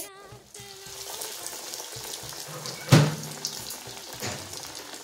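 Breadcrumb-coated Arabian puff snacks go into hot oil and fry, with a sharp splash-like burst of sizzling midway and steady crackling around it, plus some clattering.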